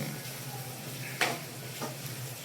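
Hot tempering (vaghar) sizzling in oil for mixed dal, a steady frying hiss with a couple of brief louder spits and crackles, close by, no talk.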